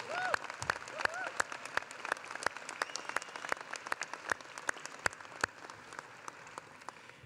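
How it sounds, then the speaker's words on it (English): A high school commencement crowd applauds graduating seniors, a wash of clapping with many distinct sharp individual claps standing out, gradually thinning over about seven seconds, with a brief voice near the start. "How about one more round of applause for this highly accomplished group of students?"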